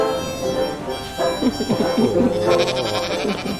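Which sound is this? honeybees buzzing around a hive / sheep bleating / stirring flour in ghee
sheep bleating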